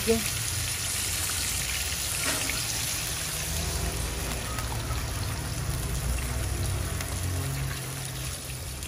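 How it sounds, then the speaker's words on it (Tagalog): Water is poured into a cooking pot of meatball misua with patola, a steady, even rushing hiss that holds at one level from start to finish. "Lagyan natin ng tubig."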